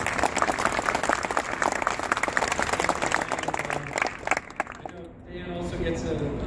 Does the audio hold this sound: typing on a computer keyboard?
no